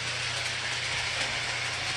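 A model train runs laps around a layout with a timer and lap counter, giving a steady, even whirring rumble with a faint hiss, close and continuous with no distinct clicks or voices.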